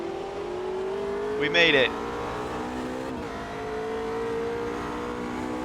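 Race cars in Automobilista 2 on the Nordschleife, a steady engine drone with a brief shifting whine as several cars battle close ahead, while someone speaks briefly over it.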